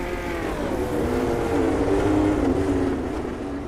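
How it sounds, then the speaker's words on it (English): Race car running on the oval at Federated Auto Parts Raceway at I-55 during a night pole shuffle, a steady loud engine drone with a slowly rising and falling pitch throughout, no talk. "is the next car out on the racetrack."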